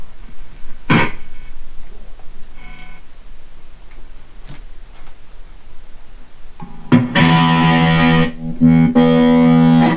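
Distorted electric guitar tone from a Gibson SG Tribute, with a few sparse picked notes early on, then loud, sustained crunchy chords ringing out over the last few seconds.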